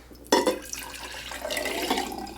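Coloured water is poured from one glass into another, a sudden splash followed by a steady trickling pour that runs on for a couple of seconds, close and fairly loud, with no talk.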